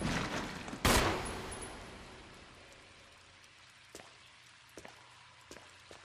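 A single loud gunshot from the Resident Evil Remake game cracks near the start and fades into a quiet rain-like hiss, broken only by a few faint clicks.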